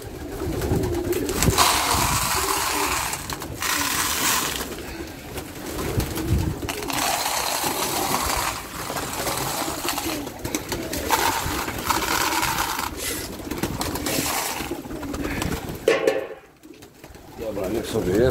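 Racing pigeons coo repeatedly while feeding in a loft, a steady chorus of soft throaty calls close by, with someone speaking over them.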